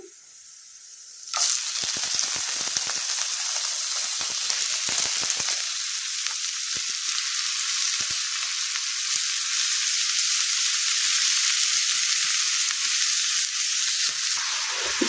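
Onions sautéing in a hot pan sizzle loudly and steadily once the cabbage goes in, a close, continuous frying hiss broken by a few scraping stirs, with no talking.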